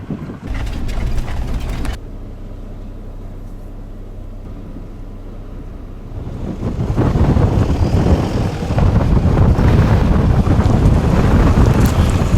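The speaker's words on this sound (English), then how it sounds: "It's bloody windy. I want to try find somewhere out of the wind." Strong wind buffets the microphone in heavy, roaring gusts, easing briefly then surging louder toward the end, with no voices.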